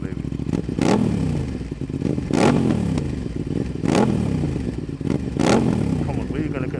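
An Aprilia RS660 sport motorcycle engine revs in four repeated sharp bursts, each climbing and falling away roughly every one and a half seconds, loud and close with a rough rumbling idle between blips.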